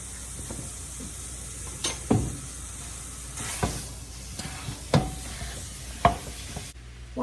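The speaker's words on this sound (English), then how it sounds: "While the sausage is over there cooking" Sausage browns in a big canner pot, a low steady sizzle with occasional close stirring scrapes and knocks of a utensil against the pot, quiet and without talking.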